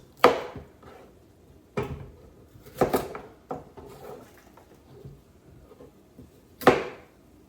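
A knife dices a dark green vegetable on a cutting board in a handful of sharp, separate chops spaced a second or more apart, close and fairly quiet with stillness between strikes.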